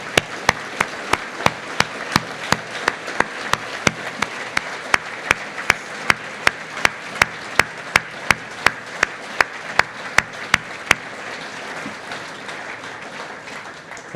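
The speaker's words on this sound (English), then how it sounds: "Can we give an applause for Jeff?" Mourners at a memorial service applauding, a soft steady clapping wash punctuated by sharp, evenly spaced loud claps that repeat for about eleven seconds before the applause thins out.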